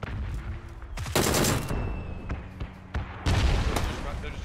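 Bursts of rapid gunfire in PUBG, two loud volleys with single shots between, while players talk over the game sounds.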